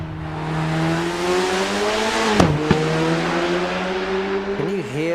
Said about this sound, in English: Can you hear the exhaust bang on every upshift?